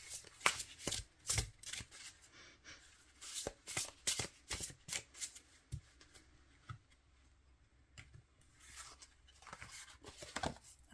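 Matte-finish oracle cards being riffle shuffled by hand: quiet, close-up bursts of rapid fluttering clicks, repeated several times with short pauses and soft handling rustles between.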